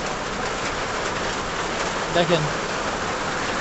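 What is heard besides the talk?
heavy rain falling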